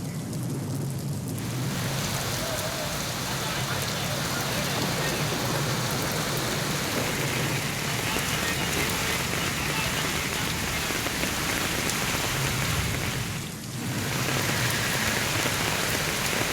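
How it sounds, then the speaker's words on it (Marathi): Heavy monsoon rain pours over a city with low-lying streets flooding, a steady, dense roar of drops on surfaces that stays loud and unbroken, with one brief dip near the end. "तब्बल 2 ते 3 तासांपासून पडणाऱ्या या पावसामुळे शहरात सखल भाग जलमय झाले"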